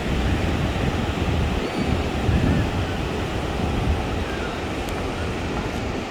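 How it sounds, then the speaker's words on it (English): Surf on the beach at Vũng Tàu rolls in as a steady wash of breaking waves, mixed with wind buffeting the microphone, continuous and fairly loud with no talking. "This is the beach at Vũng Tàu."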